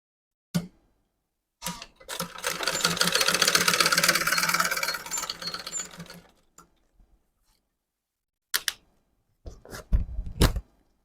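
A sewing machine stitches folded fabric for an autogele headtie, giving a close, steady mechanical whir for about four seconds, followed by a few scattered clicks and knocks, with no voices.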